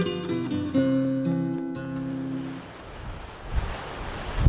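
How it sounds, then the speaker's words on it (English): Strong wind of up to 45 knots and ocean waves on Swan Island, Australia, give a broad roaring wash that rises toward the end, after a few seconds of sustained tonal sound at the start. "How fast do you think the wind is blowing on a day like today?"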